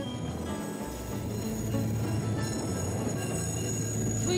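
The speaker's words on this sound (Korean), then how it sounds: "Este es un tren que está partiendo desde la localidad de San" Tren a las Nubes, the Train to the Clouds, rolling through the high Andes with a steady rumble and clatter of wheels on track, faint squeals above, close and continuous.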